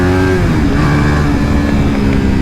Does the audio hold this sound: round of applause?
no